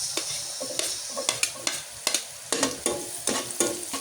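Garlic and onion saute in a pan with a bright, constant sizzle up close, broken by regular scraping strokes as a utensil stirs them, with no talking.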